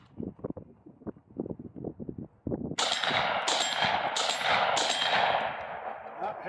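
A JTS M12AK shotgun fires S&B double-aught buckshot outdoors, four heavy blasts in quick succession whose roar blends into one sustained boom after a few softer knocks.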